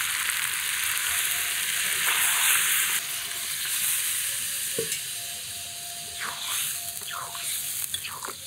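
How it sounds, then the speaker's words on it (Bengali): Chicken fries in hot oil with spices, a loud continuous sizzle and hiss with a few stirring scrapes and squelches toward the end. "আগে তো মাংসগুলো তেলের মধ্যে ভেজে নিলাম, তারপরে মশলার সাথে কষিয়ে নিলাম।"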